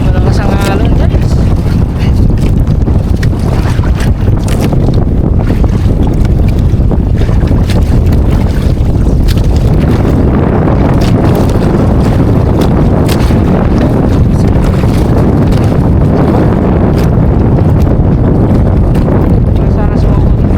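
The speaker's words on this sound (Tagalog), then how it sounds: "Malakas ang alon" Strong sea waves surge around a fishing boat at sea, a loud, continuous rush of water and hull noise with heavy wind buffeting the microphone throughout, no voices.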